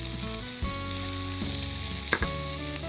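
Lightly boiled carrot and beetroot pieces fry in a pan with a steady, dense sizzle, while a few brief stirring scrapes and a faint tonal hum run underneath.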